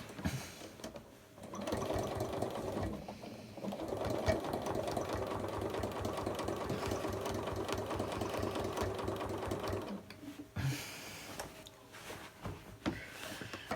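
A sewing machine stitches a quilted apple core runner with ruler fan quilting, running in a steady rapid whir for several seconds, pausing briefly, then resuming in shorter bursts.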